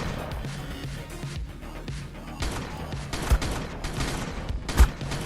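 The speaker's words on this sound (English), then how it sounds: "They're returning fire." Gunfire in the survival game Ark Survival Evolved during a battle against tamed creatures and Rexes, a dense fusillade of repeated shots with two sharper bangs standing out near the end.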